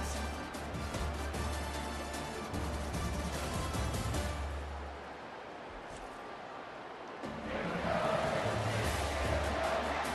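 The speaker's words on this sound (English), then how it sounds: "Here comes this home crowd as the defense tries to get off the field on third down" Home crowd roaring in an EA Sports College Football game, a broad sustained wash of stadium noise that dips midway and then swells again.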